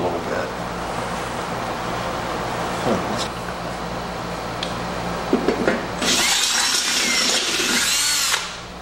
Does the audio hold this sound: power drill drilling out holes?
yes